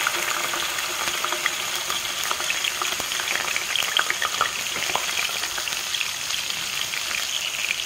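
Cumin seeds and onion slices fry in hot oil with a steady, bright sizzle and crackle, close and even throughout, with no talking.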